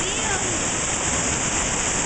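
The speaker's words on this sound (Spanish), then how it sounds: "Cascada La Golondrina" Rushing water roars in a steady, dense hiss, close and loud: La Golondrina waterfall in Alberto Adriani municipality, El Vigía, Venezuela, pouring continuously with no breaks.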